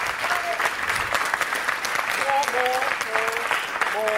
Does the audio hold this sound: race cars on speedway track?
no